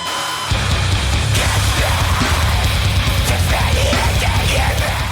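Death metal and grindcore plays loud and dense, with pounding low drums and distorted guitars filling the whole clip after a short quieter start.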